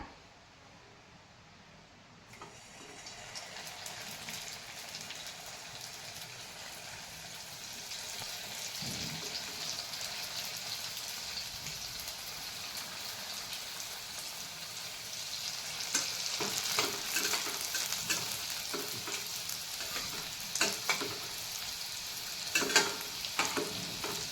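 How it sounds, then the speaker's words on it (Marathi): Vegetable momos deep frying in hot oil until golden brown: a steady bubbling sizzle that builds louder over time, with scattered crackles and pops, close and uninterrupted. "आपण आपले मोमोज फ्राय करून घेऊया"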